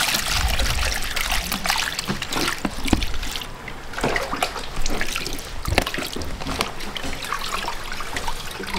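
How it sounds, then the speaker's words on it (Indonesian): Shark fish being washed by hand in water, with steady trickling and splashing of running water close by, continuous and fairly loud with occasional sharper splashes. "Ikan hiu dicuci."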